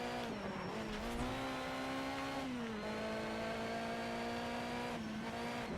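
A Lotus Elise engine in the racing game Need for Speed: SHIFT hums as a steady, fairly quiet drone. Its pitch holds level and then dips and recovers a few times, as if the car eases off and reaccelerates.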